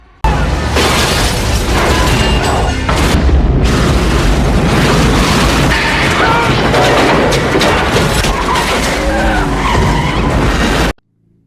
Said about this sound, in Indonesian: Dan ledakan tersebut membuat terowongan terbakar